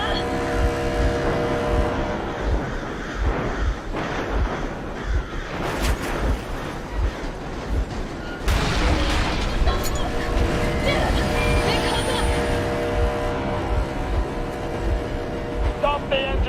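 A boat engine runs steadily in Metro Exodus, a low droning hum with rhythmic thumping pulses beneath water sounds, while voices speak over it throughout.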